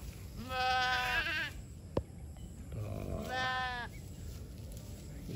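Goats in a pasture give two distinct, close bleats a couple of seconds apart, with a sharp click and quiet outdoor background between them.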